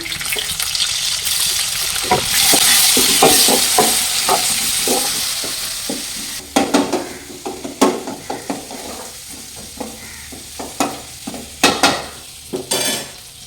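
Crushed garlic and two handfuls of shallots fry in a pan for a murrel fish curry: a loud rushing sizzle at first, then repeated metallic scrapes and knocks of a spoon stirring against the pan.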